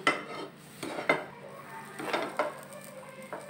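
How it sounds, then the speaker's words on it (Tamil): Thick rava gulab jamun dough is stirred in a pan, with a spoon scraping and knocking against the metal in irregular, close strokes over a quiet background. "நல்லா நைஸா அதுல நல்லா கிளறி எடுத்துக்கலாம்"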